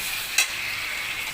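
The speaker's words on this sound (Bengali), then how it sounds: "টমেটোগুলো দিয়ে একটু ভাজা ভাজা করে নেব" Onion and tomato fry for prawn dopeyaja, a steady close sizzle from the pan with one brief scrape of a stirring spoon near the start and no talking.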